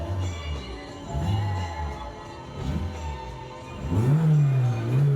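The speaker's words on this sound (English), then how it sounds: "give it a rev" A Peugeot 106 Rallye engine idles nearby, then is revved, its pitch rising and swelling before easing back.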